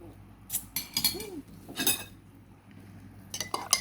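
A spoon whisks a drink quickly to whip foam, clinking and rattling against the cup in irregular rapid bursts separated by short quiet gaps.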